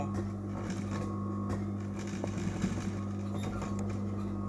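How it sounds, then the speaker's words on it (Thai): A sewing machine stitches along the edge of a collar with a steady low motor hum and faint rapid stitching ticks, quiet and continuous with no voices. "อ่าทีนี้เราจะเย็บนะคะ เย็บริม เย็บริมไป"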